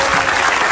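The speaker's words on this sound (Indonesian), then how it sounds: "tepuk tangan dulu dong" A studio audience at a comedy talk show gives a short, loud, dense burst of applause.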